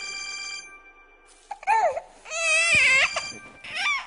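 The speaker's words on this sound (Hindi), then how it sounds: "ये अंकल सुख के फोन कर रहे हैं।" A telephone rings with a bright, trilling electronic tone in several bursts, separated by short pauses, fairly close and clear with no talking.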